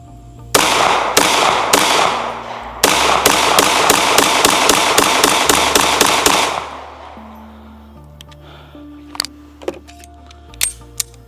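Wilson Combat SFX9 9mm pistol fired at a target, about twenty sharp close shots in quick bursts with a short pause after the first few, followed by fading echo and scattered faint clicks.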